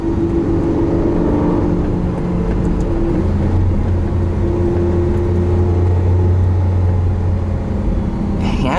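A 2012 Lamborghini Aventador with a V12 engine and all-wheel drive cruises along, giving a loud, constant engine hum whose tones shift in pitch as it drives, with no talking.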